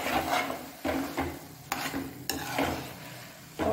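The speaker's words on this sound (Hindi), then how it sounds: "ये ड्राई फ्रूट डाल देंगे हलवे के ऊपर और अच्छे से इसको मिक्स कर देंगे।" A spoon stirs and scrapes through carrot halwa topped with dry fruits in a pan, giving several rhythmic rubbing, sizzling strokes up close with no one talking.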